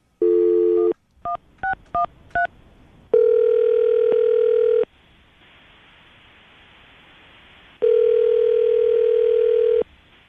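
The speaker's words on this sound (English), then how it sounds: "I'm going to dial the phone number right now" A steady phone dial tone, then five quick keypad beeps, then the tone returns. A stretch of faint hiss follows before the tone comes back once more.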